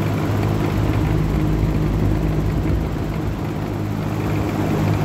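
A Holmecrest box fan's motor running steadily, a smooth continuous low hum with airy broadband whoosh, close and even throughout.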